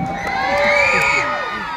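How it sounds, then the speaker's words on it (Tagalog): Crowd cheering, whooping and shouting loudly at a pageant-style candidate introduction, a dense swell of excited voices rising and fading over a couple of seconds. "Wala bang palakpakan dyan? Wala bang hiyawan dyan?"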